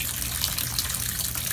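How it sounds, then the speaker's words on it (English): Water gushes steadily from a tap into an RV bathtub, a close, continuous hissing rush with no talk. "go ahead and turn on this water. See if I can get up to this line."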